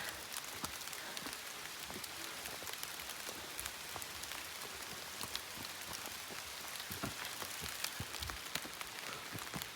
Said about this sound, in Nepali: पानी पर्यो लटरम्बेश्वर हाइकिङमा।